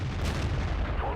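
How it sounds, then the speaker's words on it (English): A tank gun firing in World of Tanks on a ridge at long range, a single deep boom at the start that rumbles and fades, with a faint voice underneath. "So we're just putting casual shots in here along this ridge."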